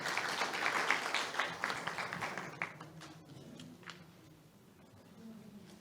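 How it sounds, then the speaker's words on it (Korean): Seminar audience applauding at an occupational safety and health event in a conference room, a burst of clapping that is loudest at the start and then thins and fades over a few seconds. "다시 한번 박수 부탁드리겠습니다"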